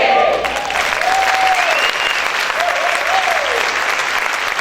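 Steady, loud applause from a church congregation fills the whole stretch without a break, with faint tonal voices rising and falling faintly beneath the clapping.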